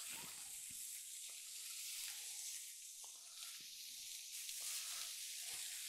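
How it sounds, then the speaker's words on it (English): Steady, dense sizzling of smashburger patties frying on a hot Blackstone griddle, continuous and close, with a few faint clicks and taps underneath. "can you hear the sizzle?"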